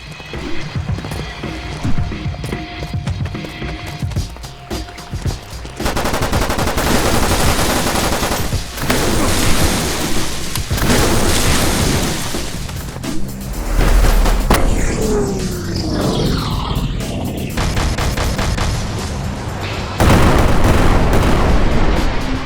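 Dense video game battle from Killer Bean, with rapid machine-gun bursts and heavy gunfire rolling continuously, loud and busy throughout.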